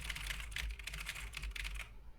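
Quick, steady clatter of a computer keyboard being typed on, close and fairly quiet, with continuous rapid keystrokes over a low hum during a game match review.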